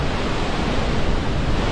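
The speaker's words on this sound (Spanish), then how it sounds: "Que hace un buen estruendo la caída de agua aquí" Gullfoss waterfall in Iceland gives off a steady, dense broadband roar of falling water, loud and continuous with no breaks and no voices.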